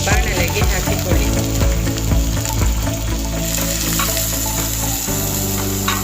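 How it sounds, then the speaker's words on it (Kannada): Salted, squeezed bitter gourd frying in coconut oil in a pan for chutney, giving a loud, steady sizzle that runs unbroken the whole time, with no talking. "ನಂತರ ಉಪ್ಪು ಹಾಕಿಟ್ಟಿದ್ದ ಹಾಗಲಕಾಯಿಯನ್ನು ಹಿಂಡಿಕೊಂಡು ಬಾಣಲೆಗೆ ಹಾಕಿಕೊಳ್ಳಿ."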